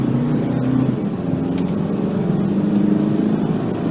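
A VW Caravelle with a 150 kW engine pulling away hard from a standstill, its engine droning loud and steady from inside the cabin with low tyre and road rumble, no talk.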